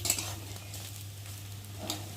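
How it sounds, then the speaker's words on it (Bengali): Lentil fritters (dal bora) frying in hot oil, a soft steady sizzle with faint stirring clicks near the start and end, close and quiet with no talking. "আর এখন দেখো, দু পিঠই ভালোভাবে ভাজা ভাজা হয়ে গেছে, লাল লাল করে ভেজে নিয়েছি"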